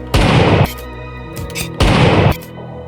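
Two quick bursts of rapid gunfire from the Wrist Wrecker 5000 gun in a video game, each a loud clattering volley of about half a second, separated by a short pause.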